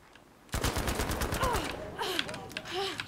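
Rapid bursts of in-game gunfire from Battlefield V crackle through a close firefight, the shots coming as dense repeated cracks with whizzing tones over background game sound.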